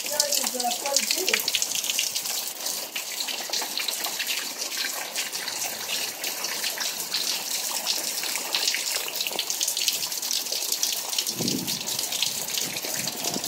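Storm floodwater running across a front yard after a Missouri storm, a steady broadband wash and gush that holds at an even level throughout, with a brief low rumble near the end.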